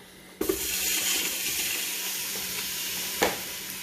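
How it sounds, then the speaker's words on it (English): Pork tossed into a hot pan over medium-high heat for posole hits with a sudden loud sizzle that holds steady, followed by a second clattering burst of sizzling as more goes in. "you just get your pork, and you toss it into the pan."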